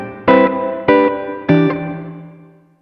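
Hall reverb setting on an Alabs Cetus reverb pedal: three strummed electric guitar chords ring out about half a second apart, the last one fading into a long, smooth, spacious tail with no talking.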